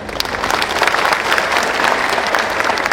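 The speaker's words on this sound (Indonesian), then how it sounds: "Tepuk tangan ucapan terima kasih pada Kasitu" Loud, sustained audience applause filling the hall at an Indonesian public event, a dense steady clatter of many hands with a faint crowd murmur underneath, continuing without a break.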